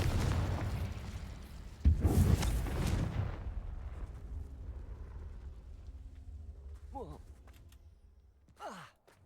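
Spell explosions from Bombarda and Confringo in the video game Hogwarts Legacy, a sharp, heavy blast that rumbles and fades slowly, then two short rising whooshes, with a sigh-like breath in between.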